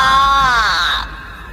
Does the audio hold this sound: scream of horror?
yes